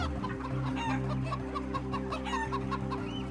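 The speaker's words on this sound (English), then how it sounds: "and hens in battery cages" Caged laying hens cluck in a dense, continuous chorus, with overlapping calls and a steady low mechanical drone of a battery-cage shed underneath.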